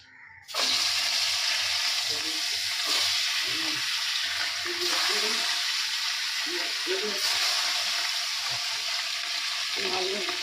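Loud, continuous sizzling of snakehead fish frying in hot oil in a wok starts abruptly and holds steady, with faint clinks and a voice murmuring underneath.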